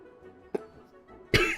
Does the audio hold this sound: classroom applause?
no